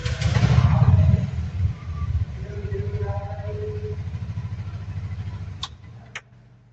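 A brand-new 2026 Bajaj 236cc three-wheeler with an ISG system and no starter motor starts with a brief surge, then runs at a steady, thumping idle nearby before two short high beeps near the end.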